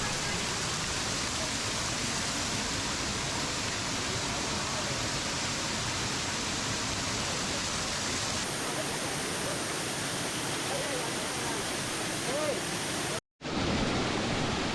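Kiliyur waterfall in the Yercaud hills, running heavy and brown after rain, gives a dense, steady roar of falling water, loud and close, unbroken except for a brief cut near the end.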